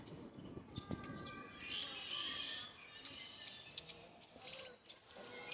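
Wild birds singing outdoors near the coast, faint chirps and short tweets scattered over a soft background hiss, with a few brief clicks.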